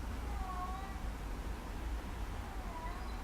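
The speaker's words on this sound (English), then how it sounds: "I can hear a cat meowing outside." A cat meowing outside a large greenhouse, two faint, distant drawn-out meows against a steady noisy background hum.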